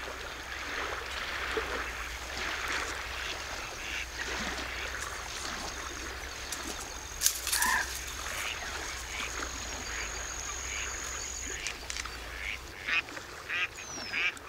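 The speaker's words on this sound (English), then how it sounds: "in the inland wetlands, the dominant birds are definitely the anatidae or duck family." Ducks quack intermittently over a steady rush of flowing water in the Ebro River Delta wetlands, Spain, with a few louder calls standing out near the middle.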